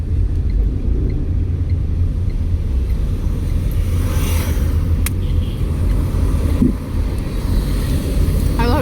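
A car engine driven by a learner hums as a steady low rumble that builds gently as the car accelerates slowly, with wind-like buffeting mixed in throughout.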